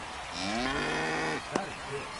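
A single drawn-out cow moo rises and holds for about a second, clear and fairly close, part of an in-game insurance advert, followed by a brief sharp click and a faint low murmur.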